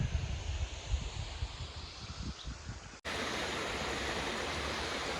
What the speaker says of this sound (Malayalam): ഒരു പാലത്തിൻ്റെ അടിയിൽ കുറച്ച് വെള്ളച്ചാട്ടമുണ്ട് ചെറിയത്